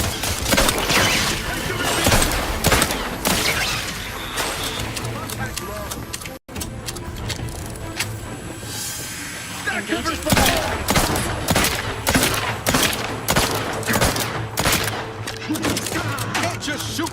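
Sustained gunfire in The Outer Worlds 2, dense volleys of loud close shots and bursts running nearly the whole stretch with one brief dropout, game effects layered in and a voice talking over the shooting.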